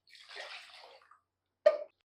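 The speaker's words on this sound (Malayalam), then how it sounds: "അപ്പൊ ഞാൻ കുറച്ച് വെള്ളം കൂടെ ഒഴിക്കാൻ പോവാ" Water is poured into a pot of fish curry with coconut and mango, a soft splashing pour for about a second, then a short sharp splash after a pause, close and quiet.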